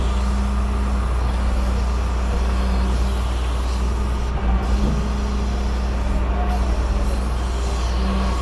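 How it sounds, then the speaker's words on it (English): A tow truck's flatbed slides out and tilts back, a steady loud mechanical drone with a constant low hum and a sustained tone, some brief knocks midway, with no talking. "bring the bed out,"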